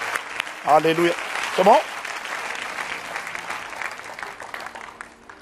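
A church congregation claps in a brief burst alongside shouting and cheering voices, with a loud preacher's voice rising over the room before the noise settles into an echoing hall.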